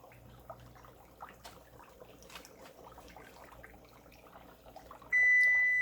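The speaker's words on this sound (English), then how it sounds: "our timer has ended up" Kitchen timer going off with a sudden loud steady beep near the end, after quiet kitchen sounds of clinks and running water while cooking garlic chili oil.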